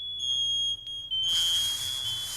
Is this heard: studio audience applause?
no